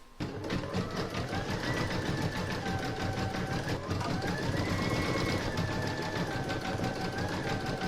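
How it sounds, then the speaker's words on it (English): An embroidery machine runs satin stitching on a cat bookmark design, a fast steady mechanical rattle of needle strokes with a whirring motor tone that shifts slightly in pitch, close and continuous. "So next I'm going to do the satin stitching around the belly area, and that's round number 6"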